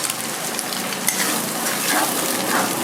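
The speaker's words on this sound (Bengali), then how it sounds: "ভালো করে ঝুরঝুরে করে ভেজে নেব" An egg frying in a pan with salt, cooked until crumbly; a dense, close crackling sizzle runs steadily throughout with a few small sharper pops.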